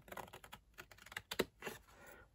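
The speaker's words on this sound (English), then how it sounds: "So we are going to cut this rectangle. I'm going to get my long scissors." Long scissors snipping through a paper rectangle for a mini wine bottle gift box, a run of close, quick crisp cuts and rustles, several sharper snips in the middle, with no talking.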